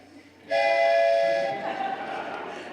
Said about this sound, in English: I've always wanted to drive a choo-choo train.